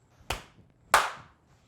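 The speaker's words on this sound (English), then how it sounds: "And I gotta do my official clap." Two sharp, close hand claps ring out about half a second apart in a quiet interview room, each with a short decaying tail, the second one louder; no talking.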